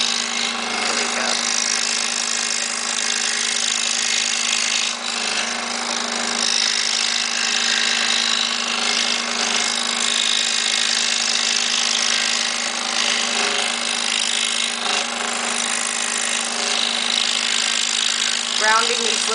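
Scroll saw cutting small wooden ornaments, a constant loud buzzing drone throughout with a faint blower hiss, someone talking over it.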